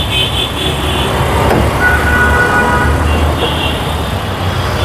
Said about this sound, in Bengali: ইঞ্জিন স্টার্টে রাখছেন ভাই।